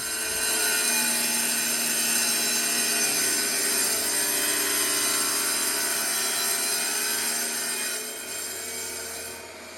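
A power saw cuts through bathroom tile, a steady, loud grinding whine that runs continuously for nearly ten seconds before easing slightly near the end.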